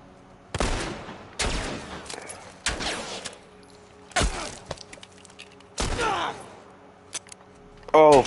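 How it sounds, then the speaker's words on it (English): Gunshots from The Last of Us Part I ring out in five sharp, loud bursts spaced about a second apart, each with a ringing tail, followed by scattered small clicks and a short clipped burst at the end. "Opening fire."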